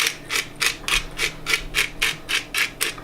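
Fresh black pepper ground in a pepper mill while cooking Egyptian koshari, about a dozen rapid, evenly spaced gritty grinding strokes, close and fairly loud with no talking.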